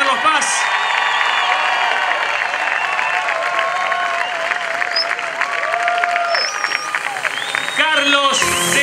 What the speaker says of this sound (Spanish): Vamos, un aplauso fuerte